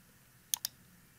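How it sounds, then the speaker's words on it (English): Two quick, crisp computer mouse clicks sound close together, sharp and near against a quiet background. "Click on Save to finish."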